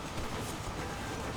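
A train in the video game Red Dead Redemption rumbles along steadily, a dense, loud, continuous rolling roar with no distinct clacks standing out.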